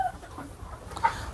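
Hens on a desi poultry farm cluck faintly in short, scattered calls against a steady barnyard background hum, with one brighter cluck standing out near the end.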